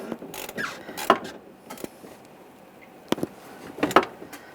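A radiator drain plug on a Ram 1500 pickup is tightened, giving short bursts of close ratcheting clicks separated by brief pauses.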